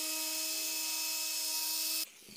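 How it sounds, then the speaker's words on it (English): A Torque X polisher runs with an orange cutting pad and C4 compound, a steady high whirring hum with a constant pitch, then it cuts off abruptly near the end, leaving a quiet room. "So we got our Torque X, our orange cutting pad, and our C4 compound."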